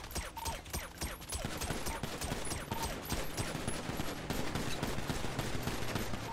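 Rapid gunfire in a shooter video game, dense bursts of automatic shots and scattered single cracks rattling continuously at close range with no pauses.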